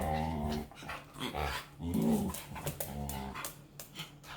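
Pet dogs growling low and whimpering indoors, with irregular bursts of rumbling snarls and whiny yelps close to the listener, no talking.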